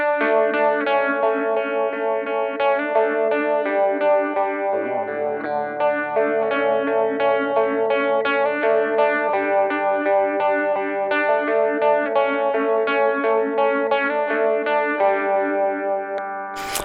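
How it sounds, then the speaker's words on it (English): Electric guitar runs through a Lilian phaser pedal, a steady picked chordal pattern swirling with sweeping phase motion, sustained and even in level with no talk. "the Lilian is a fantastic phaser"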